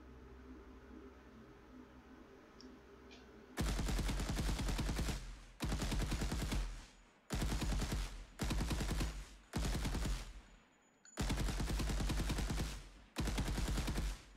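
Automatic weapon fire from an Unreal Engine third-person shooter game comes in six loud sustained bursts of rapid shots, separated by short pauses, after a quiet opening.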